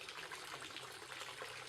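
A concrete courtyard fountain made with bamboo-formed concrete, a sheet of water draining slowly into the entranceway, gives a steady, close, continuous wash of trickling water with no break and no voices.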